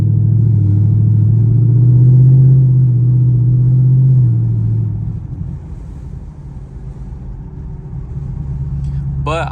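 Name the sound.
Chevrolet Camaro SS engine and exhaust pops during a drive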